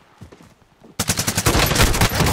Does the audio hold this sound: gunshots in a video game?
yes